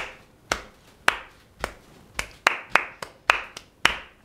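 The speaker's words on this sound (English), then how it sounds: "Students are going to be walking in open space while they clap the rhythm of the words." Students clap the rhythm of the rhyme "2 4 6 8 Meet Me at the Garden Gate" in a classroom, making nine sharp, crisp claps in an uneven spoken-word pattern, each clear and separate against a quiet room.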